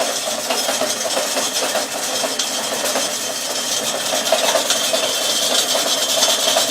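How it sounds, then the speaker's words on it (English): A cheap second-hand bandsaw runs continuously at a steady pitch, a close, loud motor hum with a bright whirring hiss and faint rattling and no pauses. "But not bad for a cheapy little second-hand bandsaw."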